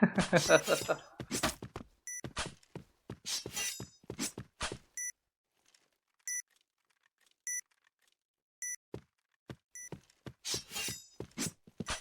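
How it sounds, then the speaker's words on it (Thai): A planted bomb in the Point Blank shooter game beeps in short, evenly spaced electronic pips, clear and isolated in quiet stretches, with game voices and bursts of action around the start and end. "Bomb has been planted."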